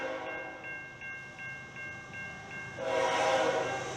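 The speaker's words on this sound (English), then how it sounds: "And here comes a train." Train passing nearby, its horn sounding in short repeated blasts before the loud rumble and rattle of railcars rolls in close.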